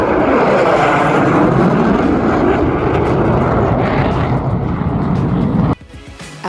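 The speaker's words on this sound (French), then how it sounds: "C'est un spectacle impressionnant car le départ est donné par les avions de chasse." Fighter jets roar low over the start line of a desert race in Djibouti, a loud, sustained broadband rumble that fills most of the clip before cutting off abruptly near the end.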